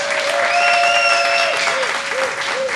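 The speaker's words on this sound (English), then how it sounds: "I'd really like to hear one more round of applause for Shannon." A live audience gives loud, continuous applause for performer Shannon Marsyada. Dense clapping fills the whole stretch, with whistles or cheers riding over it.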